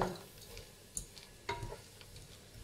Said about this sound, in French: et là, je laisse cuire ma viande tout simplement.